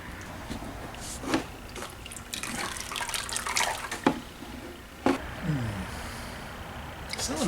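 Water trickling and splashing out of a waterlogged AMC 304 V8 engine during teardown, irregular drips and pours with a few sharper splashes, close by, with some speech-like sounds around it.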